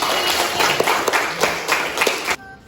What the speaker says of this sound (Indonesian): Ya, tepuk tangan begini.